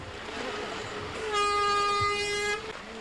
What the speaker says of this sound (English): the sound of the horn